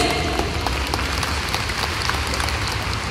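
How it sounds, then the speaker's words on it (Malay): Thunderous applause from an audience at a motivational business event, a dense steady wash of many hands clapping alone for a few seconds. "Berikan tepukan yang paling gemuruh untuk S2U families"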